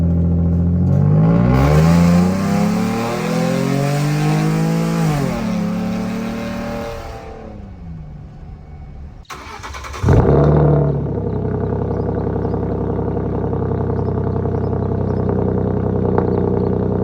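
A Ford F150 fitted with a catback exhaust and straight pipes roars loudly at full throttle, engine pitch climbing through a long pull before dropping off, then revving again and settling into a steady rumble, no voices.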